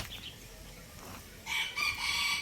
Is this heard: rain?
no